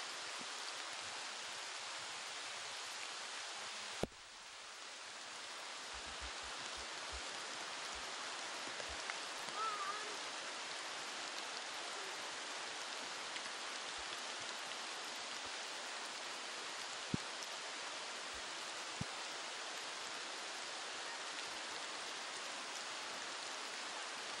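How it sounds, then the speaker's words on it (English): Heavy rain falls outside a cave in Belize as a steady, dense hiss. It carries on unbroken for the whole stretch, with a few faint knocks and clicks close by and no talking. "It's raining, so we can't stay out too long."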